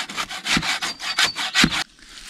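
A hand saw cuts through a wooden log for a log cabin build, about eight quick rasping back-and-forth strokes close up, then the cutting stops.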